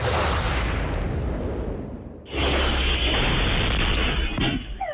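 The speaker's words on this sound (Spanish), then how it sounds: "6 personas que viajaban en el balde de una camioneta resultaron heridas por una explosión" A security camera records an explosion that hits people riding in the back of a pickup truck: a sustained roaring blast that dips and then surges again into a loud, wide rumble.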